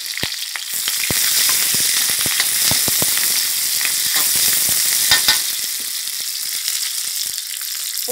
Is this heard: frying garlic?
yes